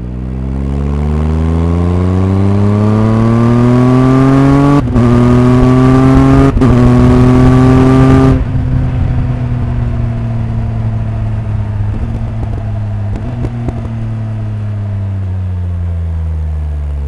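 Loud Triumph Tiger 1200 XRT motorcycle engine with Arrow exhaust revving up through several rising pitches, each broken by a quick sharp quickshifter cut as it shifts gears, then easing off.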